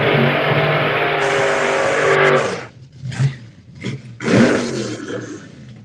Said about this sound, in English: There's a noisy car comes around.